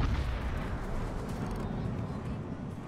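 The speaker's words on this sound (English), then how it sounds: "Anti-aircraft gun crews are on full alert." Anti-aircraft guns fire continuously in a naval warship video game, a dense, steady rumble of rapid gunfire with booming low end that never lets up, mixed with game effects.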